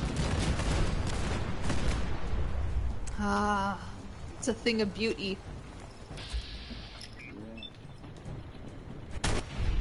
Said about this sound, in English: Firing the cannons is not optional.